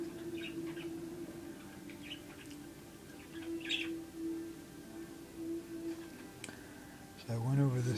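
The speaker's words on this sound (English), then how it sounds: "Set outside sounds like a wild bird." A wild bird calls outdoors in short faint chirps and tweets scattered over a quiet hum, distant and intermittent, ending with a brief louder noise.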